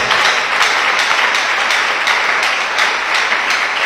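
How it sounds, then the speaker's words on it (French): A large audience at a lively French- and Lingala-speaking address breaks into loud, dense applause, a close, sustained wash of many hands clapping at once with faint surges throughout and no speech over it. "Encouragez-moi par vos acclamations quand même."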